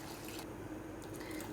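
Water is poured into a black chickpea curry to make the gravy, giving a soft, steady trickle and splash that sits close and quiet for the whole moment, with no talking.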